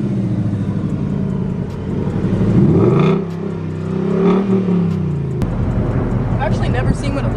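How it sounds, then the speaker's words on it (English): A stock car engine with no added modifications revs up in loud rising and falling sweeps, the pitch climbing and dropping twice before settling into a rough idle, heard close up. "So now we're gonna rev the engine, and keep in mind this is just stock"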